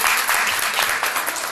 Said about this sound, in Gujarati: એના માટે જોરદાર તાળીઓ થઈ જાય